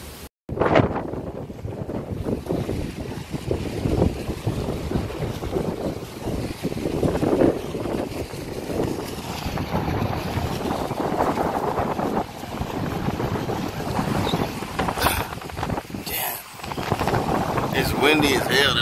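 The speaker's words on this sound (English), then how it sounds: "Windy as hell today." Strong wind sweeps across a beach, buffeting the microphone with a continuous, loud roar that swells and dips throughout.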